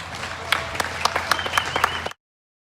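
An audience at a junior market barrow livestock show claps for about two seconds, a steady patter of applause with sharp individual claps standing out, then cutting off abruptly into silence.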